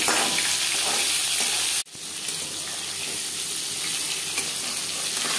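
Hilsa fish fries in mustard oil with a loud, continuous sizzle. It breaks off sharply for a moment, then carries on crackling steadily.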